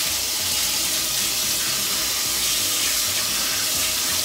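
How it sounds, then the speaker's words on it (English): Cold tap water runs steadily into a sink as chicken feet are rinsed, a loud continuous hiss and splash with no break throughout. "rinse them with cold water to stop them from cooking"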